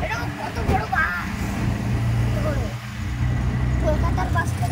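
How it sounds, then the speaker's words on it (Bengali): Large buses and road traffic in Mumbai make a continuous low rumble of engines and passing vehicles, with a person talking over the roadway noise. "বাসগুলো দেখো কত সুন্দর, এটা কত বড় বাস"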